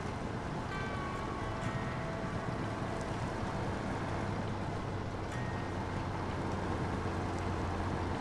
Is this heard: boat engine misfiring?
yes